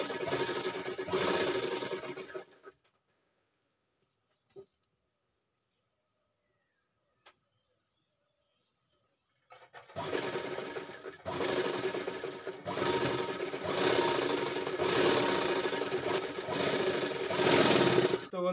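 A sewing machine stitches cord piping into fabric, running in two bursts of steady close-up whirring split by several seconds of near silence with a couple of faint clicks.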